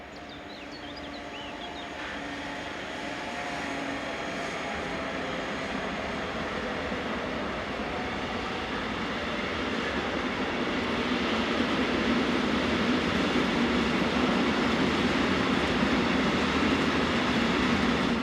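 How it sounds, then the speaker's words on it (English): A Class 185 locomotive hauls a freight train of tank wagons east, a loud, continuous rumble and roar that builds steadily as the train passes close by. "Here it heads east on a trainload of tank wagons."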